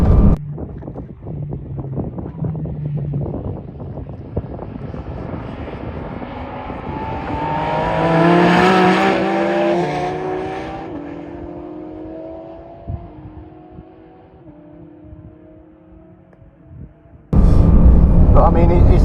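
Porsche 991.2 GT3 RS with a baffled exhaust, its engine note rising and falling through gears in a loud sweep, accompanied by wind noise, then ending in a sudden burst of loud broadband rumble.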